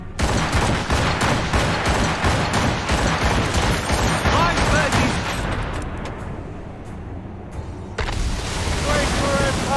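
Volleys of gunfire crackle across a naval battle in the video game Assassin's Creed Rogue, with loud bursts over wind and sea noise, easing briefly and then erupting again near the end.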